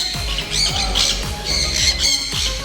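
A white parrot squawks loudly and close by in a rapid string of harsh, rasping calls that repeat about every half second without pause.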